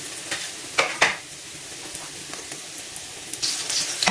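Garlic and ginger sizzle steadily in a hot pan of oil, with a few scraping stirs and clinks of a utensil near the start and end, close and continuous, no voices.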